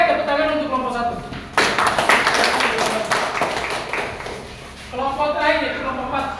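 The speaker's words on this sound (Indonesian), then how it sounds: "tepuk tangan untuk kelompok 1" A group of people claps for a student group in a classroom presentation, a burst of brisk hand claps lasting a few seconds between stretches of talking.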